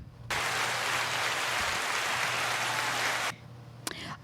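Audience applause for podcast guests, a steady dense burst of clapping that holds for about three seconds and then stops abruptly.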